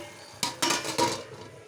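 Metal spoon clinks and scrapes against a pan as curry is stirred during home cooking. Three quick, faint knocks come in succession over a quiet background.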